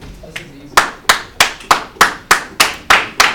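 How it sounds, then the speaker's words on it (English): Students in a classroom clap in a steady, evenly spaced rhythm, about a dozen sharp, loud claps heard close by with no talking over them. "Everyone stop clapping."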